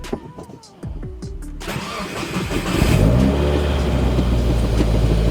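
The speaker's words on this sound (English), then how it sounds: "First start in the Subaru." Subaru engine cranking and catching for its first start, a short starter whir followed by the engine firing up and settling into a loud, revving idle close to the microphone.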